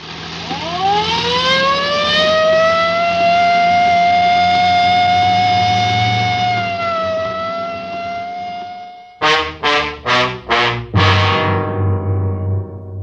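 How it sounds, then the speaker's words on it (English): A 1950s police car siren wails, rising and holding a long, steady tone, then gives way to a rapid series of short yelping bursts, loud and close. "I better use the light and siren, Frank."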